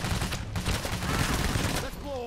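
Rapid gunfire crackles in the heist shooter Payday, a dense run of sharp automatic bursts in close succession, loud and continuous with a brief voice cutting in near the end.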